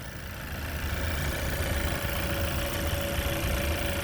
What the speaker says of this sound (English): Now with the motor running,